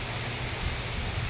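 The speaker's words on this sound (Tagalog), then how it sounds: "Yung narinig yung sounds na to mga kaibigan, ulan, hangin to" Steady rain mixed with strong gusting wind under a dark sky, a dense, unbroken wash of noise with a low rumble, moderately loud and continuous throughout with no voices.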